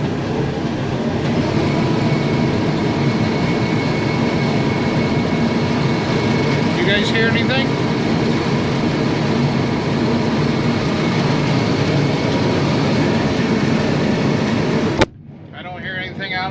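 A John Deere combine engine revs up loud and steady for about fifteen seconds, a dense droning roar with a clattering rhythm, then cuts off abruptly, leaving quieter ambience; someone speaks briefly over it.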